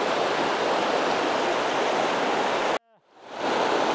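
A river flowing in Olympic National Forest, a loud steady broadband rush of water that cuts out abruptly near the three-second mark and then swells back in.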